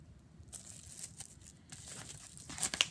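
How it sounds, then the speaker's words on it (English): Paper envelopes from a dollar-store haul being handled, with soft crinkling and rustling of packaging that grows louder and sharper toward the end, close up and without talk. "I picked up these envelopes."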